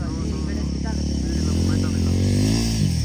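A motorcycle rides off-road along a forest trail, its engine droning loudly and steadily with rising revs and rattling, close by from start to end.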